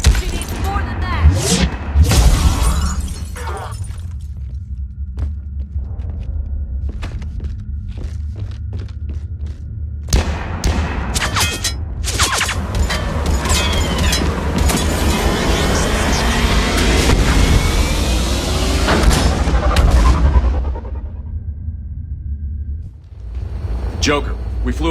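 Gunfire and explosions in Mass Effect, loud booming blasts and rattling shots with deep rumble, heaviest in the middle stretch, while characters talk over the combat.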